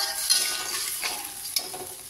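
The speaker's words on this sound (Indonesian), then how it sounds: "kita gongseng" Seasoned beef stir-fried in a pan with soy sauce and beef bouillon, a soft steady sizzle broken by a few quick scraping stir strokes, no talking.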